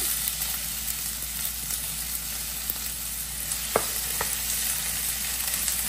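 Chopped onion frying in oil with panch phoron, a steady close hiss and crackle filling the whole stretch, with a couple of faint utensil taps partway through.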